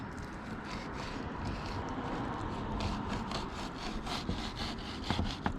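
Rhythmic back-and-forth rasping of a knife sawing trout skin from a fillet, steady and close, continuing throughout without talk.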